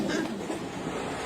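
A moving passenger train rumbles steadily from inside the carriage, a low continuous roar heard close for a brief moment.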